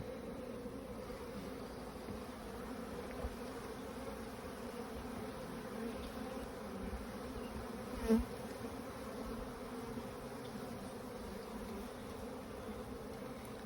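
Honey bees in a packaged hive make a steady, even buzzing hum close by for the whole stretch, with one brief soft bump midway and no talking.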